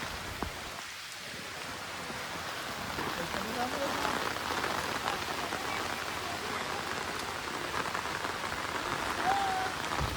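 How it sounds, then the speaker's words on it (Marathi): Heavy rain pours steadily onto surfaces outdoors at a rice-transplanting field in Konkan, a dense continuous hiss that stays loud throughout, with voices faintly present under the downpour. "जोरदार आला पाऊस बघा."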